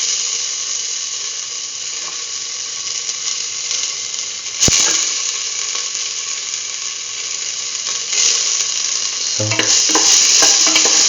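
Ginger sizzles steadily in a hot pan while being stirred with a utensil, giving a continuous bright hiss punctuated by scraping and clanks, with louder stirring near the end.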